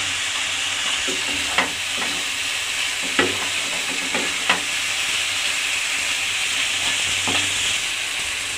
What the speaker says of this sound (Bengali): সাথে আলু আর মূলোটাকে কষিয়ে নিয়েছি